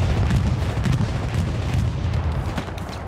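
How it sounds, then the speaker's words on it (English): A bombing run in a hardcore first-person shooter game pounds out dense, continuous heavy explosions and rumbling booms, loud and close, with no gaps across the whole stretch. "Oh, bombing run."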